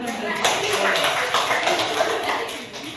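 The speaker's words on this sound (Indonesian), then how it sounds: "Boleh, boleh kali. Tepuk tangan." A classroom group claps in a short burst during a teacher's coaching session, the claps blending under continuous talking.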